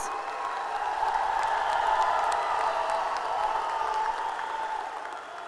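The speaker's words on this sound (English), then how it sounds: "A big round of applause" Graduation audience at Mainland High School applauding the leadership, faculty and staff, a broad wash of clapping with some cheering from a large, somewhat distant crowd, swelling then easing.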